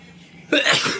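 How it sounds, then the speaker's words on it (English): A single sneeze bursts out partway through, loud and close after a quiet lead-in, from a person who has just woken up. "Sorry, I'm sneezing."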